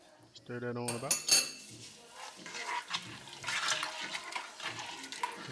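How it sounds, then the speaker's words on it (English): A utensil stirs peach cobbler filling with cinnamon and vanilla in a pot, making close, irregular scrapes and metallic clinks after a brief tonal sound at the start, with a wet, sloshing texture and no clear speech. "And we're gonna stir that on about."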